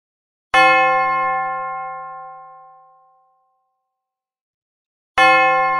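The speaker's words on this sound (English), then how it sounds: "The sound comes from the bell." A single bell is struck and rings out clearly, its bright metallic tone slowly decaying over a few seconds into silence before a second strike begins.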